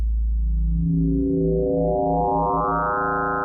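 A pure sine tone from a wavetable synth on a Tonverk holds steady, then gradually brightens as the wavetable position sweeps in harmonics, becoming buzzier and richer over a few seconds.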